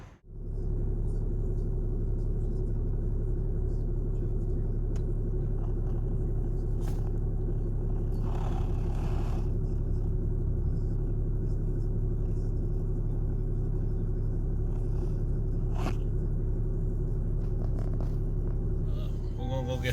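A 2019 Cummins turbo diesel pickup truck with a newly replaced turbo actuator drives around the block, giving a continuous deep, steady engine rumble heard from close by, with only faint, brief sounds above it.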